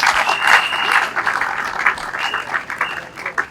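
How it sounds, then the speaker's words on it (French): Steady, dense applause from an audience at a Congolese speech event, loud and close, continuing without a break and with scattered whistles or cheers over the clapping. "Est-ce qu'on peut encore applaudir pour lui?"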